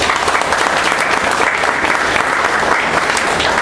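Loud, dense applause from a conference audience welcoming a history lecturer, a continuous wash of many hands clapping close by, steady for the whole stretch with no talking.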